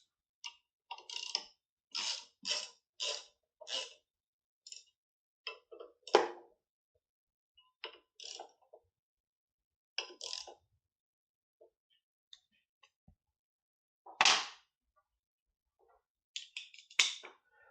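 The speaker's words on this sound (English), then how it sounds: "I'm going to go ahead and tighten it down the rest of the way." Harley handlebar clamp bolts being tightened down, a run of small sharp metallic clicks and ratchet-like ticks in irregular bursts with pauses between, close and fairly quiet, no talking.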